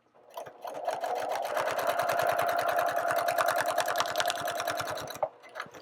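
A sewing machine stitches a quilt just outside the seam ditch, a fast steady needle rhythm running continuously for about five seconds, starting and stopping cleanly.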